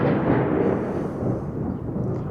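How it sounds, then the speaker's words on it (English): Thunder during a storm in Portugal, a continuous deep rolling rumble that swells and slowly fades, loud and alone for a couple of seconds. "It's thunder and lightning here in Portugal."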